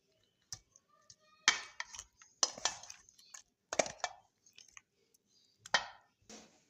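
Raw fish is mixed by hand with vinegar and ground garlic in a bowl, giving scattered wet squelches, clicks and light clinks in short irregular bursts, close and quiet, with no talking.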